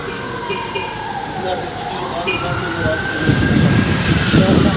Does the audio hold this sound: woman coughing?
no